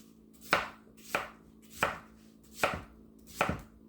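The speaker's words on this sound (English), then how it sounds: "But I'm going to do my chopping first." Five crisp knife strokes chop vegetables into chunks on a cutting board for gazpacho, evenly spaced and close, with quiet between the cuts.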